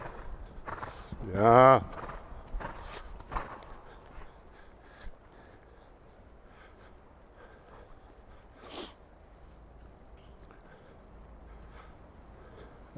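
A horse walks during a riding lesson in an arena, with a few soft hoof thuds and a snort or blow heard early, then quieter scattered steps while an instructor speaks briefly.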